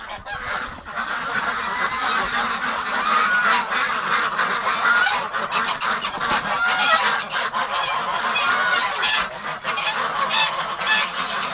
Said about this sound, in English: There's a goose fight